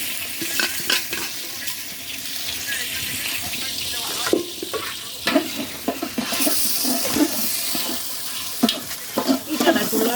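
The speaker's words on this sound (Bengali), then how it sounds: "চালটা দিয়ে দিলাম।" Rice tipped into a large pot of water for biryani cooked outdoors over a brick fire in a courtyard, with splashing, stirring and sloshing up close in irregular bursts.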